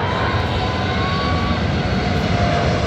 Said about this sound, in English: 747 Lufthansa.